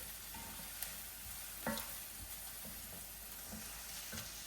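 Red peppers fry quietly in a pan, a faint continuous sizzle with occasional soft stirring knocks.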